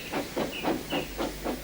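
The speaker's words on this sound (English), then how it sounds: "Thomas chortled away, leaving Henry in a cloud of steam." A steam locomotive chuffs in about six evenly spaced, hissing bursts of steam, close and fairly loud, with no voices over it.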